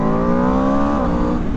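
A brand-new 2025 Aprilia RSV4 sportbike on its stock exhaust, the engine holding a loud, rich, steady howl close by, pitch dipping slightly then climbing again.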